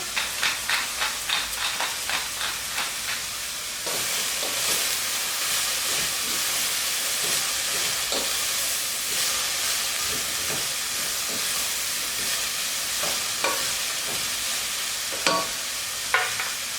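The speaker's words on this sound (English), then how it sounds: "This we let simmer for around 5 minutes." Red cabbage with salt and pepper simmering and sizzling in a pan, a steady loud hiss after a few opening stirring scrapes, with occasional clinks, close by and without talk.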